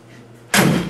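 A door thumps open partway through, a sudden loud, close knock-and-rush after a quiet room hum, in a workshop where an automatic transmission with no dipstick is being serviced.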